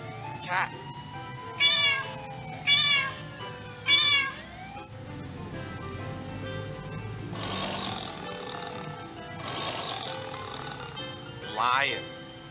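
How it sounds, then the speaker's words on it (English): Several clear cat meows come in a rhythmic series near the start, followed by more drawn-out, wavering cries later, all close and fairly loud over a soft musical background, with a voice speaking briefly in between. "Cat. Cat."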